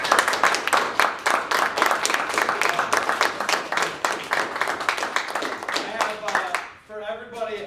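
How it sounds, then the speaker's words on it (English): An audience applauds the presenters at a high school forensics showcase, a dense, steady round of clapping that carries on for several seconds before it thins out near the end, with voices mixed in. "How about another round of applause for all of our presenters?"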